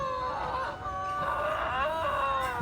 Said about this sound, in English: There's the husky sound.